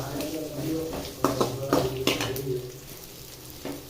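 Onions sauté in a pan, a soft, faint sizzle under scattered clatter and scraping from stirring, with a few short bursts that stand out against the low background.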